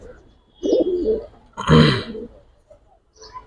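A pair of pigeons coo nearby in two distinct throaty bursts with short pauses between, followed by a faint trailing murmur.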